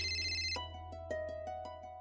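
A phone rings in a home with a bright electronic ringtone, a sustained tone followed by a quick run of repeated pulsing notes, close and clear, with no one speaking.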